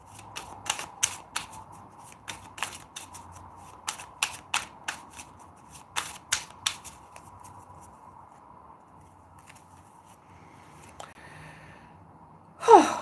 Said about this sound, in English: Now, I want to get some oracle cards for you, Leo.